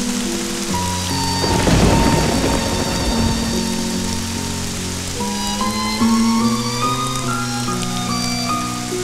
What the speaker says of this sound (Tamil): மழையை பார்த்து ரசிக்கிறீங்களா?